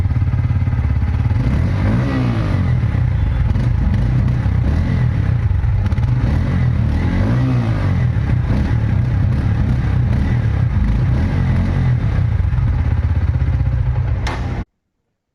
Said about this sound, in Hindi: और अभी मैं आपको सुनाऊंगा इस बाइक का एडजॉस्ट नोट।